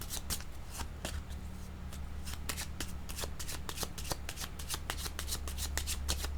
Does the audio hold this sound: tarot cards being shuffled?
yes